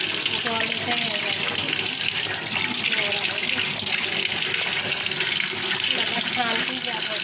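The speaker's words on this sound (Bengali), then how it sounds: "জল এসে গেছে" Tap water gushes steadily into a reservoir with a continuous splashing rush, fairly close, while a voice talks over it at moments.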